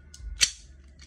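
A repaired gas blowback airsoft gun, one that had a full-auto fault and a leaking gas magazine, fires a single sharp, close crack during a test, with a faint mechanical click just before it.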